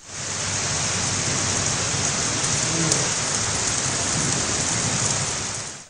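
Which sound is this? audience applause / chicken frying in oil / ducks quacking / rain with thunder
rain with thunder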